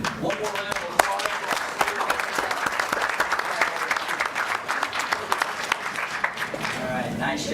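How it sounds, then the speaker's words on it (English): Audience at a school board of education meeting claps in a sustained round of applause, dense and fairly close, with scattered voices and chatter mixed in beneath the clapping. "One more round of applause."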